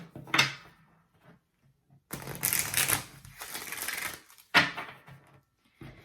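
A tarot deck being bridge-shuffled in halves, each shuffle a brief crisp riffle burst, with a longer rippling run in the middle and a final sharp riffle, close up with no talk.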